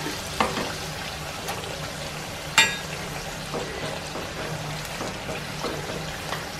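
Food fries gently in a pan and is pressed and turned now and then. A continuous soft sizzle carries scattered light clicks and taps, with one sharper knock near the middle.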